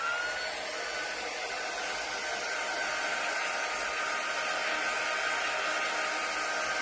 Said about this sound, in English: let me hit that with the dryer and continue on with this